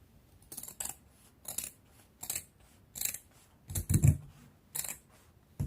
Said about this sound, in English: So I'll be cutting out both front and the back piece now. I will now go ahead and cut it out.